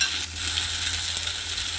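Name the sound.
stirring and frying flattened rice (chira) in a pan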